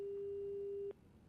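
A steady, continuous telephone tone holds for about a second, then cuts off abruptly, leaving faint background hiss.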